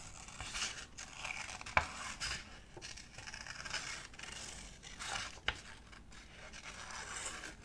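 Scissors snip through paper and a sticker at close range in a quiet room. A few sharp individual cuts stand out amid soft rustling and scraping of the paper.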